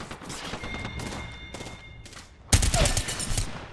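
Bursts of Havoc rifle fire in Apex Legends, several short volleys early then a loud sustained fusillade in the final second and a half, close and sharp.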